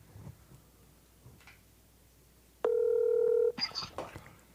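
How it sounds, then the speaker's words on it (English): A phone on speaker dialing out, a short burst of touch-tone beeps and then a sustained loud ring tone, followed by faint voices and rustling over a quiet background. "Let's go ahead and call him right now. See if he answers the phone."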